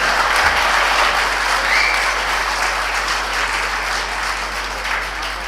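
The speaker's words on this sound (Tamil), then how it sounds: "அவங்களுக்கு முதல்ல நல்ல ஒரு கைத்தட்டு கொடுங்க" Sustained, dense applause from a large audience honoring cooks who served seventeen dishes, loud and steady throughout without a break.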